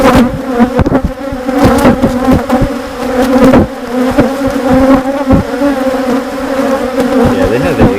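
Dense swarm of honeybees buzzing loudly and close over an open hive frame during an inspection, a continuous droning hum with shifting pitch and no voices.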